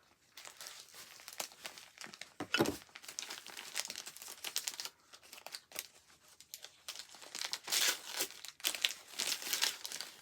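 Paper crinkling and tearing as it is pulled out of gift wrapping, a run of close, quiet rustles and crunches in irregular bursts with brief pauses, no talk.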